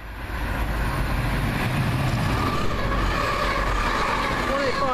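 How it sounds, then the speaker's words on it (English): A TransPennine Express train, a class 185 unit heading to Manchester Airport, passes through the station at Kearsley with a loud, steady rumble and rising rail noise throughout. "Here comes a Transpennine."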